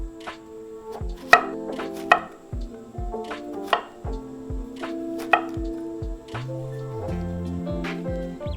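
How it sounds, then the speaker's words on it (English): Knife cubing squash on a cutting board for doenjang jjigae (soybean paste stew), a steady series of sharp, close chops thudding on the board, with a few louder knocks and brief gaps between bursts. "Let's cube 1/3 of a squash."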